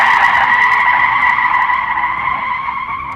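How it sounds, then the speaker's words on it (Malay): Car tyres skid and squeal on a hilly road after hard braking, a loud sustained screech with steady tonal bands that fades slightly over about three seconds, with no voices. "Meluncur tayar aku di jalan raya tu"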